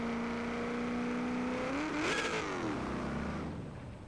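A 1956 Ford F100 pickup doing burnouts in Forza Horizon 3, its steady engine drone swelling into a brief rev near the middle before settling back, loud and close with no talk.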